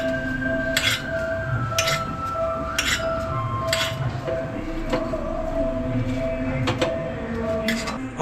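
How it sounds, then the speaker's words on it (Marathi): Appo, small round rice-batter dumplings, being lifted from an appe pan onto a plate at home, giving a run of about eight sharp metallic clinks spaced roughly a second apart over a steady kitchen hum. "आपण रेडी आता काढता प्लेटान तू."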